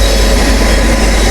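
Humsafar Express from Tirupati to Jammu Tawi, an all third-AC train, rolling into a station platform: a steady low rumble of moving coaches, loud and close, with no talk.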